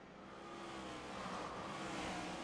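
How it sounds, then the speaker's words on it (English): Race cars accelerate off the green flag in a sim racing game, a 40-lap USA Pro Cup event on a roval, making a loud, continuous, dense engine roar from the packed field that swells slightly over the moment with no talk. "Look at all those cars trying to squeeze through there."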